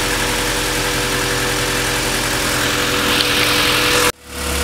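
A Honda Civic engine idles loudly and roughly during an air-conditioning recharge, its steady droning hum running close and continuous before abruptly cutting off near the end.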